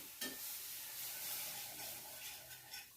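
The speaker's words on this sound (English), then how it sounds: "I'm going to add 2 cups of milk to this. And I'm going to stir" Two cups of milk being stirred into a browned flour roux in a pan for sausage gravy, a soft continuous sizzle and hiss with faint scraping strokes, quiet and close, no talking.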